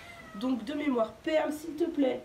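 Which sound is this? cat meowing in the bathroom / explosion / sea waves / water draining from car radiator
cat meowing in the bathroom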